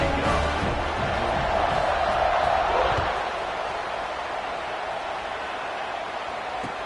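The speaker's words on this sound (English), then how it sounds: "this crowd is feeling themselves after that last drive" A stadium crowd at a Washington versus Arizona State college football game roars in a broad, steady wash of cheering that eases slightly after a few seconds.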